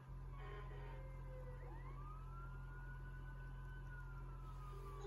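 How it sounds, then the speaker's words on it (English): A fire truck siren wails in long, rising and falling sweeps. It sounds faint and somewhat distant over a low steady hum, with no voices. "That's right, a fire truck."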